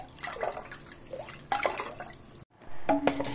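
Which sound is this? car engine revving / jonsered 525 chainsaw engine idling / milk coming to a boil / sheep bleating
milk coming to a boil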